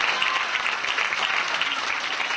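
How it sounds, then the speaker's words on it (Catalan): Supporters applauding at a council meeting in Campos, a dense, steady burst of clapping from a crowd filling the room at close range, without pause. "El seguiment dels parlaments han estat aplaudits pels simpatitzants de cada opció"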